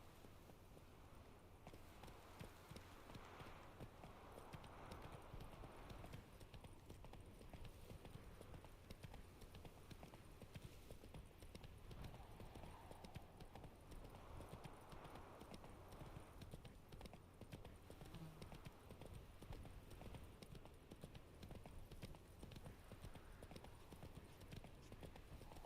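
Horse hooves clip-clop steadily on the ground in The Witcher 3 as the horse walks at an even pace, heard over a constant bed of game ambience with no talk.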